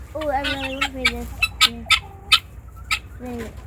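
Chickens clucking in short close calls while being fed, with people speaking over the birds.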